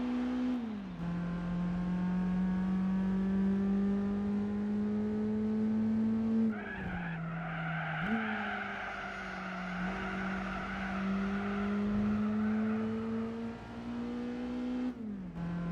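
A race car engine in the Gran Turismo video game holds a steady high drone near the rev limiter, with brief gear-change dips and tire squeal, and no talk over it.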